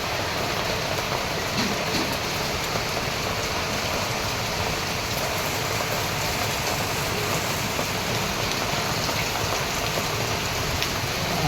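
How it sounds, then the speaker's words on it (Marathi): Heavy monsoon rain falls outdoors in the evening, a dense, loud, unbroken roar of drops hitting surfaces that stays steady throughout. "जबरदस्त पाऊस पडतो आहे"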